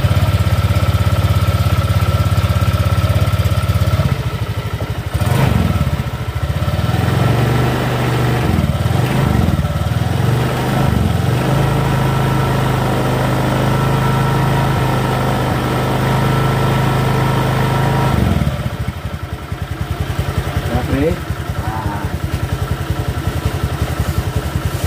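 A Honda Vario 125 scooter engine runs at a steady idle, close and loud. It cuts out, then is started again with a brief rev before settling back into an even idle.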